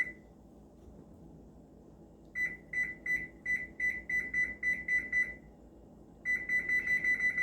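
A kitchen timer beeps in quick, high-pitched bursts, with a short pause between runs of beeps, clear over a faint background hum.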